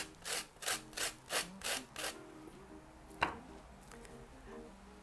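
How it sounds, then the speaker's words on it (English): Lemon zest is scraped on a grater for Maltese kawlata in six quick, even rasping strokes, then a pause and one final sharp scrape, with soft music in the background. "I'm going to grate some more lemon."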